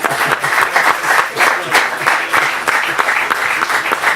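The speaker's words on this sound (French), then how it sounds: "C'est là qu'on va tous applaudir." An indoor audience at a tennis club's tournament presentation breaks into sustained applause, many hands clapping loudly in waves for several seconds.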